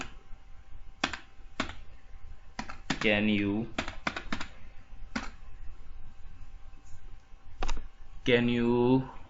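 Typing code on a computer keyboard, with irregular bursts of key clicks spread across the clip and a person talking over the keystrokes at two points.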